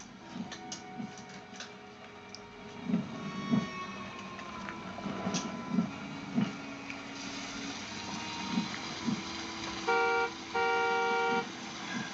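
Car horns honk repeatedly over a low rumbling engine, with a couple of longer sustained blasts near the end.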